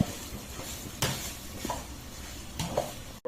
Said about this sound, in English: Make sure you mix everything well together so that we scrape every bit of flavor from the pan